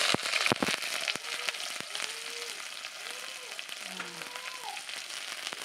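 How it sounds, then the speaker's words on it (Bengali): Chopped onions fry in a pan with a bright, crackling sizzle that pops loudly at first and then settles into a continuous close hiss, while a voice talks faintly over it. "চলো এখন ভাজাভাজি হবে।"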